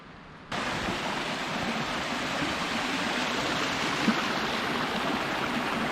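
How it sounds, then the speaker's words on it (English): A swollen white-water fell waterfall rushes steadily down the fellside near Seathwaite in the Lake District, a broad, constant roar that starts abruptly after a brief quieter moment and holds loud and unbroken throughout. "Don't know if you can see the White Rapid waterfall going down there, bursting its banks I think."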